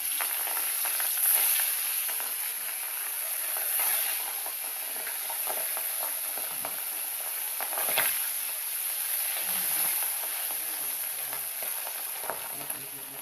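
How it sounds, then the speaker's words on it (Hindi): Fish frying in hot oil in a home kitchen, a steady sizzle and hiss with occasional louder spits and pops, close and continuous with no talking. "और इसको मैं फ्राई कर ही रही हूँ।"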